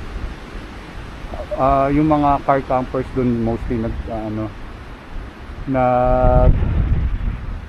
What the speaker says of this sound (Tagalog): Kaso sobrang lakas ng hangin.